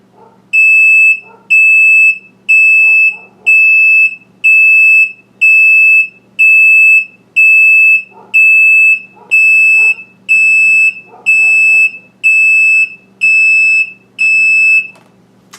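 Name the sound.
septic system alarm horn being tested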